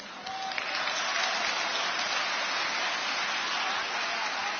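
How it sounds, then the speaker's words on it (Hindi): An audience gives a steady burst of applause, a dense, even wash of clapping that holds at a constant level throughout. "थोड़ी तालियां कम है पीछे वालों, आपकी भी दुआएं चाहिए थी"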